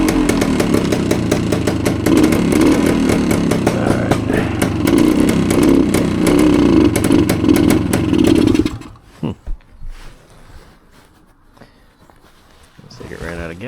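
A 1972 Suzuki TS185 motorcycle engine runs loud and steady while warming up for about nine seconds, then cuts off, leaving quiet background with a few faint knocks and some talk nearby.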